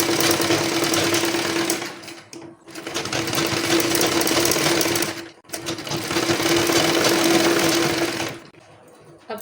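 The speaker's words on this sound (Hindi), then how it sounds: "अब मैं इस पे एक बार और इस तरह से कपड़े को दबा के सिल लूँगी" A sewing machine stitches piping onto an embroidered blouse back neck, running loud and steady in two long bursts with brief pauses between, its motor hum continuous and close.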